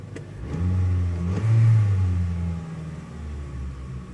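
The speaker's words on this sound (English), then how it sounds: "the engine still purrs like a kitten" A 2011 Ford Ranger pickup with about 168,000 miles idling steadily, a deep, smooth low rumble with a slight swell in the middle, heard close up with no voices.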